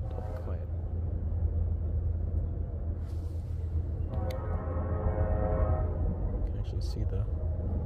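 An Iowa Interstate freight train rumbles steadily nearby with a continuous low drone and a brief horn-like tone midway, while people talk over it.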